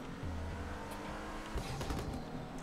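A BMW car driving in the video game GTA RP gives a faint, steady engine drone with shifting tonal hum and no talking.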